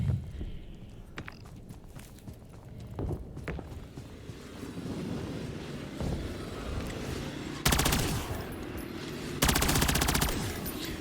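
Gunfire in Call of Duty Modern Warfare Zombies, scattered shots and mechanical clatter followed by two loud bursts of rapid automatic fire near the end, under background game noise.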